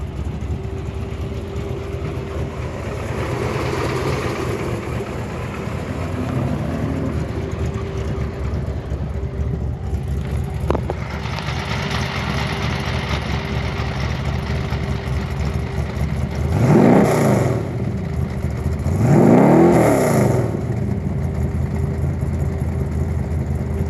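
A 1968 Chevrolet Camaro convertible engine idles with a deep, steady rumble, then rises in two short revs near the end, close and loud.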